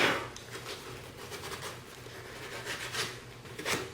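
Sandpaper rubs steadily back and forth along the grain of a maple wood chess king piece, producing a rhythmic close-up rasping of repeated strokes with no talking.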